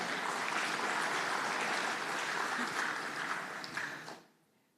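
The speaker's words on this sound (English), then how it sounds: "A loud clap, please." Audience applause in a conference hall at an industry panel, a sustained wash of clapping from a sizeable crowd that fades out after about four seconds, moderately distant.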